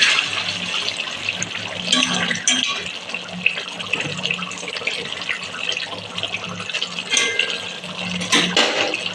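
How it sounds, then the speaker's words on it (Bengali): Koi fish curry simmering in oil under a lid, a steady watery bubbling and hiss running throughout at moderate level with no voices. "এবার ঢাকনা দিয়ে দেবো, ঢাকনা দিয়ে ফুটতে দেবো।"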